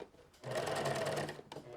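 A sewing machine stitches fabric along a garment edge in one short, close burst of rapid whirring that starts and stops abruptly.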